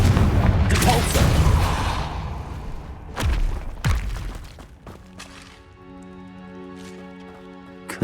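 Depulsor spell blasts in the video game Hogwarts Legacy land as heavy booming thuds, a loud burst at the start followed by two sharp hits, then a fading tonal ring.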